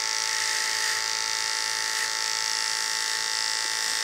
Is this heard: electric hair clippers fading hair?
yes